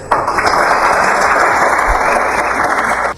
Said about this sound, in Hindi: तालियां बज गईं